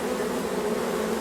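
Honeybees at a hive entrance fanning to call the swarm in after a first swarming, a dense, steady close-up buzz with no voices.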